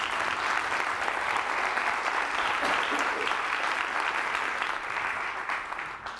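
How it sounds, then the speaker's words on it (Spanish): Audience applause at a talk on teacher wellbeing, a dense, steady roll of many clapping hands lasting several seconds and easing off toward the end, with faint voices mixed in. "Un aplauso para ella, por favor."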